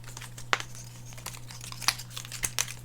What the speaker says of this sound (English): Take it out of the packaging real quick.